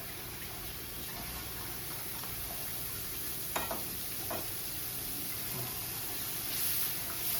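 Vegetables fry in sesame oil in a pan, giving a soft, steady sizzle with a few light clinks and stirring sounds and no talking.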